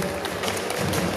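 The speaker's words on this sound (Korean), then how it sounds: "여러분 큰 박수로 보내주십시오." A brief burst of crowd applause at an outdoor charity energy-sharing event, moderately loud clapping from an audience, steady and without speech.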